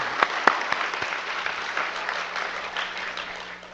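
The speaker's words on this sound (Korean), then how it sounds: "큰 박수로 받을 때 한번 쳐봐요." A church congregation at a revival meeting breaks into applause, a few sharp claps near the start and then a softer, thinning patter of hands that fades over a few seconds in a reverberant hall.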